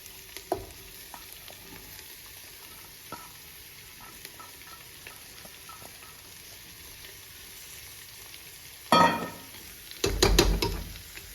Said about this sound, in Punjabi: ਹੁਣ ਆਪਾਂ ਇਹਦੇ ਵਿੱਚ ਪਿਆਜ਼ ਤੇ ਜਿਹੜਾ ਮੂਲੀਆਂ ਕੱਦੂਕਸ ਕੀਤਾ ਉਹ ਪਾ ਦਿੰਦੇ